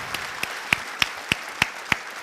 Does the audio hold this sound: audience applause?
yes